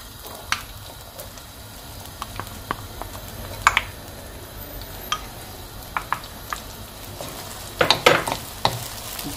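Minced meat and peppers fry in a pan with a soft, steady sizzle, punctuated by scattered sharp clicks and scrapes of stirring, loudest in a cluster near the end.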